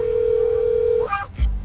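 A cell phone gives a loud, steady dial tone that cuts off into a few quick dialing beeps as a 911 emergency call is placed, ending with a brief thump.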